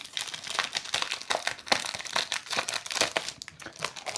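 A packaged 30x30 paper pad being unwrapped, its plastic wrapping giving steady close crinkles and a few tearing bursts throughout, with no talking.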